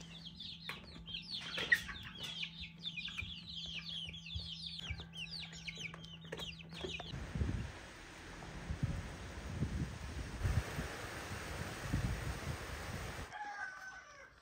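Backyard hens cluck in busy overlapping calls while a rooster crows nearby. About halfway through, a louder broad rustling noise takes over.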